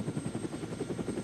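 A police helicopter flies overhead, its rotor giving a steady rapid thudding pulse with a constant engine whine above it. The sound is loud and continuous through a very brief stretch.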